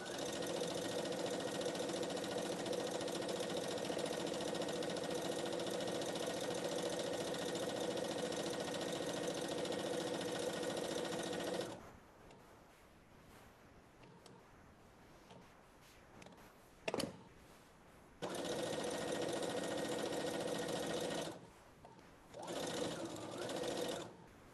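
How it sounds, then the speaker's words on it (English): Sewing machine stitching a fabric apron, a steady close mechanical whir running continuously for about twelve seconds, then stopping, followed by a short handling click and two more brief bursts of stitching. "And I'm just sewing up that last end."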